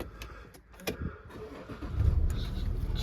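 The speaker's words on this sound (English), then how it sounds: "I'll just start the car up." A Land Rover Discovery 4 with a 3.0 SD V6 diesel engine starts up: a few clicks and a short crank, then the engine catches into a steady, close idle, with no talking.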